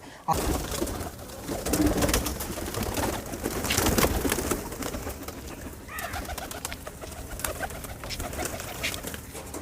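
Pigeons in a loft, including a black-eyed male trained for long flights, give soft repeated coos at middle distance across a busy, continuous background, with no talk.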